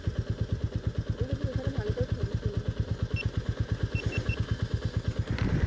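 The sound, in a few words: Royal Enfield Meteor 350 motorcycle engine running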